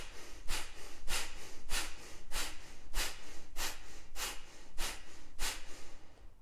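Sharp nasal breaths repeat in a steady rhythm during a yoga breathing exercise, about ten close, forceful puffs spaced roughly every half second, with no talking.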